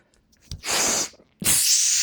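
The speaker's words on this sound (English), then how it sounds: "It's out on the way up, power, but not just out, it's grinding power breath." Two forceful, hissing exhales through tight lips, the power breath used while pressing a kettlebell overhead; close, loud bursts a little under a second each, with a short quiet gap between them.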